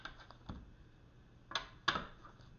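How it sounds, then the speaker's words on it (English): Tarot cards being shuffled by hand during a reading, a few quiet, sparse flicks and taps close by, faint and irregular with no talking. "I want to make sure that you see me shuffling on camera"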